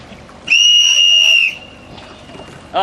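A loud, sustained starting whistle blast of about one second at a sailing or boat race start, shrill and steady with a faint lingering tone trailing after it.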